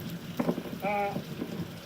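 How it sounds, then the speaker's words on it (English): Wind-driven rain from Hurricane Irma lashing trees beside a road in Orlando, Florida, a steady hissing downpour with gusts and dull thumps, and a brief tonal whine in the middle. "Look at the trees just getting buffeted by this wind-driven rain."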